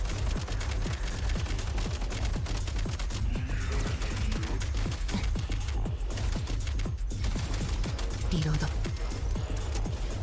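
Rapid gunfire from a gun in the video game Genshin Impact, a steady stream of quick repeated shots running throughout at even loudness, with a person talking over it.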